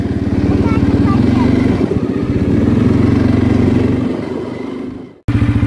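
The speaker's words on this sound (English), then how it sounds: "Here's the big Cfmoto 400." A 2019 CFMoto CForce 400 4x4 ATV engine runs on a cold day in a loud, close, steady chugging idle with a rapid rhythmic pulse, fading briefly before a hard cut, with no talk.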